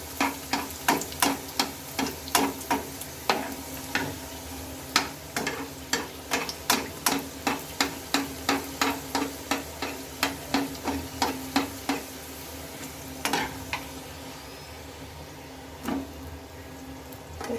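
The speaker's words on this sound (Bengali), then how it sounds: "তেল ওপর থেকে এইভাবে দিতে থাকবো" Potato snack deep frying in hot oil while oil is spooned over it, a steady sizzle under repeated sharp clinks of a spoon against the pan at a quick, even rhythm, fairly close.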